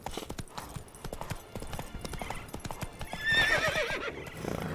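Hooves clop rapidly on the ground as a horse gallops in the video game Witcher 3, close and rhythmic, with a whinny breaking in partway through.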